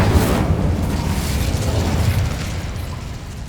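Spell blasts from Confringo and Incendio in Hogwarts Legacy, a loud continuous fiery roar and rumble with bursting crackle, strongest at the start and easing slightly over a few seconds.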